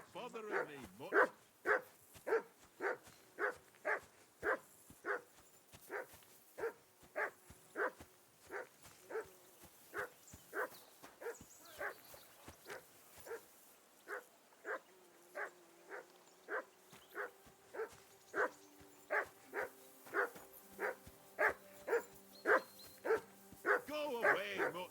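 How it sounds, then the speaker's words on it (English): Dog barking in the video game Kingdom Come Deliverance II, a long run of sharp, evenly spaced barks repeating roughly twice a second, close and insistent, with a short quieter pause midway and faint voices underneath. "Henry, that barking's driving me nuts. Can you get your dog to shut its beak?"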